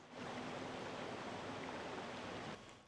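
Water gushes steadily out of a character in Paper Mario: The Origami King, a continuous broadband rushing that starts abruptly, holds level, then drops off near the end.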